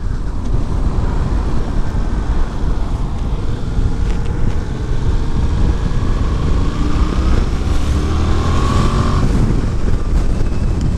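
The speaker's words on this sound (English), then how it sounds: "That was fifth gear overtaking there, and it just doesn't have that much up top." A Yamaha Tracer 700 motorcycle overtakes in fifth gear, its engine holding a loud, steady drone under heavy wind roar with a rising pitch near the end.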